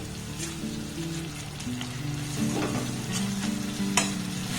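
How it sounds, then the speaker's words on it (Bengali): Spice paste is stir-fried in a pan over a low gas flame, with a steady close sizzle, faint scraping from stirring and occasional soft pops. Music plays underneath and no one speaks. "গ্যাসের ফ্লেমটাকে একটু লো রেখে মশলাটাকে আমি একটু ভালোভাবে কষিয়ে নেব"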